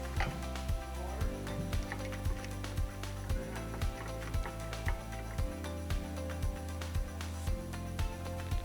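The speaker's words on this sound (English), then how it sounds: "Use the 8 millimeter side of your wrench and tighten down the nuts." A wrench works the nuts on a bike rack tail-light mount, giving a steady string of quick metallic clicks and ratcheting ticks over a low background hum.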